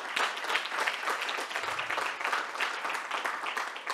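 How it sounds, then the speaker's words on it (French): Brisk applause from a tech awards gala crowd thanking partners, a continuous, even texture of many hands clapping throughout at moderate loudness. "si on pouvait leur donner une main d'applaudissement"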